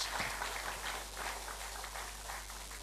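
Applause from a conference audience, a faint, distant wash of many hands clapping over a steady low hum, with no voices over it.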